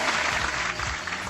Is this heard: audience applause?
yes